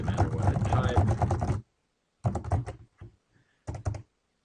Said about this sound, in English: the first thing I'm going to do is type some text.